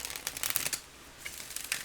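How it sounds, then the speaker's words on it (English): Crisp, rapid riffling of a deck of oracle cards being shuffled close up, two quick bursts of flicking with a short pause between. "I'm gonna try to shuffle this deck just so you guys can see how it shuffles."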